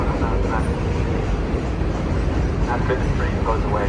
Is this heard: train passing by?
yes